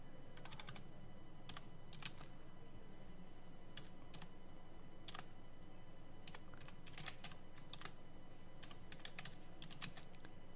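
Fingers type a Docker build command into a terminal on a computer keyboard, producing scattered bursts of quick, close key clicks with pauses between, over a low steady hum and no speech.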